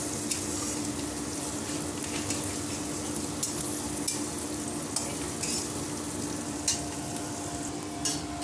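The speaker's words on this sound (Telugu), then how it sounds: "వేసుకొని రైస్ వేసుకుందాము. ఒక 2 మినిట్స్ ఫ్రై చేసుకుందాము, పచ్చి వాసన పోయే వరకు పన్నీరు." Paneer and rice frying in a pan with onions and chillies, a steady hiss with soft scraping stirs and occasional clicks of the spatula, close and continuous with no talk.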